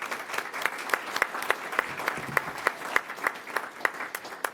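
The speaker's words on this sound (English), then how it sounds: "Please give them a round of applause." Audience at a Sacramento Regional Transit District meeting applauding employees with 20 or more years of service, a steady crowd applause with sharp individual claps standing out over a dense bed of clapping.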